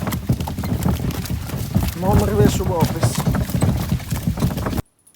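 Hooves of draft horses clip-clop along at a steady walking pace, close and fairly loud, while someone talks over them throughout.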